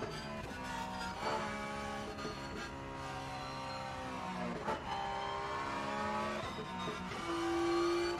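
A Porsche race car in the Rennsport racing game, its engine revving steadily through rising pitch sweeps with abrupt gear-shift breaks between them, loud and continuous from start to finish.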